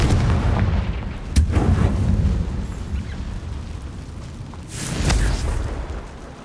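A Confringo fire spell explodes in Hogwarts Legacy: a sharp loud crack followed by deep booming rumble, then a second fiery blast a few seconds later, all close and without talk.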